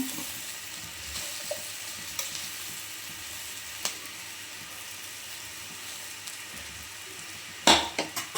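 Okra and meal maker stir-fried with coriander and cumin powder in a pan, a low continuous sizzle with occasional scrapes of a spatula, ending in a few sharp clatters against the pan, no talking.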